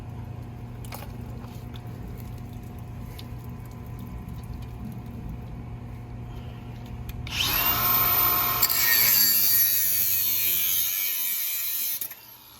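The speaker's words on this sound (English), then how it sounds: "So now he's cutting the main water line." A power tool bites into a main water line during a water softener installation, starting abruptly partway through with a loud, harsh, steady whine and cutting noise that runs for several seconds before stopping, after a quiet background hum.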